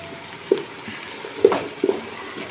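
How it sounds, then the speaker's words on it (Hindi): Ginger garlic paste fries in a pan for baingan bharta, a low, steady sizzle with three brief, louder bursts of crackle or stirring scrapes, close up with no voices. "अब इसमें मैं डालूँगा 2 टेबलस्पून अदरक लहसुन का पेस्ट। इसको भी हम फ्राई करेंगे।"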